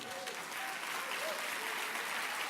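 A church congregation claps loudly and continuously during a sermon, a dense, even wash of applause with faint voices mixed underneath.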